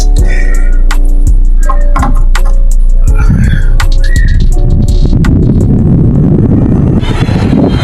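After clicks and a few short whistling tones, an electric fan's motor whirs up into a steady, loud, broadband rushing hum that continues to the end.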